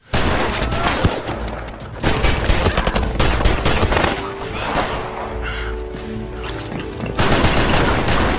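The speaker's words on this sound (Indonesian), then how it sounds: "Mason yang mengetahui hal itu langsung menghujani peluru ke arah Arnold dan anak buahnya." Sustained bursts of automatic gunfire from a movie shootout, loud and dense over eight seconds, with rapid rattling volleys, booming impacts and crashing debris, no speech.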